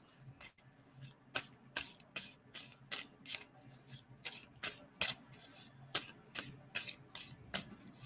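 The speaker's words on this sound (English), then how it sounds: "And tell me when to stop shuffling on that." Tarot cards are shuffled by hand in a quiet room, giving a steady run of crisp riffling bursts at a fairly even rhythm, close and soft.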